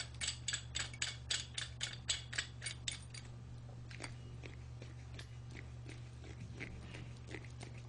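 A screw on a steering gear puller being turned against a hydraulic clutch slave cylinder piston, a quick series of close, rhythmic metallic ratcheting clicks, then scattered fainter ticks over a low steady hum.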